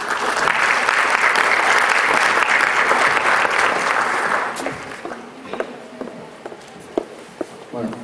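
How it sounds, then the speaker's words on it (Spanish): Sustained audience applause at a Spanish-language lecture on biofuels, loud and dense for about four seconds, then thinning into scattered claps and shuffling footsteps as the room settles. "Recibámoslos con fuertes aplausos."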